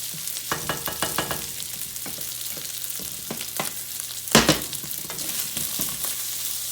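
Fried rice sizzles in an oiled pan, a continuous crackling fry broken by repeated spatula scrapes and clacks against the pan, with a sharp louder scrape midway; close and moderate in level.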